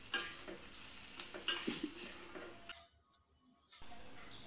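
Onion and tomato sautéing in oil in a pan, a soft frying hiss with a few utensil scrapes and clinks, dropping away briefly near the end before resuming.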